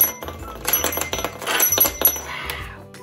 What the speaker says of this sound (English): And it rings the bell.